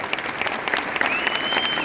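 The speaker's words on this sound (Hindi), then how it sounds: "रुको, ताली तुमने फिर बजा ली" Seminar audience applauding during a business success talk, a dense, continuous wash of many hands clapping with a faint tonal whistle-like trace over it.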